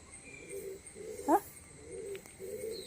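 A soft pigeon coo rises briefly midway over faint outdoor background hiss, fairly close but quiet.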